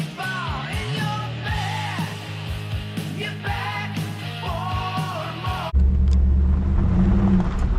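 A third-generation car engine revving several times with sharp throttle blips, close and loud, before a rougher, steadier roar takes over near the end, with people yelling and talking between revs.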